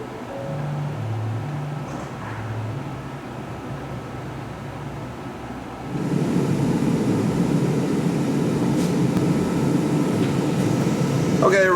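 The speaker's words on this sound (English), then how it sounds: "there we got interior lamps on, blower motors on high" Vehicle interior blower motors switched to high, a steady broadband whoosh of rushing air that steps up noticeably partway through and then holds loud and constant, with a low engine hum underneath.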